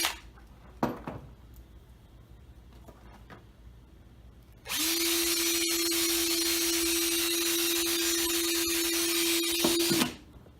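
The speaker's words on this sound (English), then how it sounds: "Then in the holes that you have left, you're going to drill in" A few light knocks and handling sounds, then a power drill with an old bit whines steadily at close range for about five seconds before winding down, drilling into an Ikea stool.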